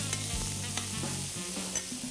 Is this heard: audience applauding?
no